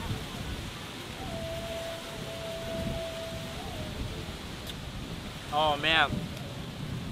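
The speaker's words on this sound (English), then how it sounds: "But now it's just so windy." Strong wind buffets the microphone outdoors in San Juan, Puerto Rico, as a steady low rumbling roar throughout, with someone briefly speaking near the end.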